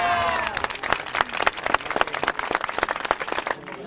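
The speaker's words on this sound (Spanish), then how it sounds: "Entre aplausos llegaban los restos mortales de Sara Montiel a la sacramental de San Justo." Crowd applauding as Sara Montiel's remains arrive at the San Justo sacramental cemetery during her funeral: dense, steady clapping from many hands fills the clip, with a brief tonal call or voice at the very start.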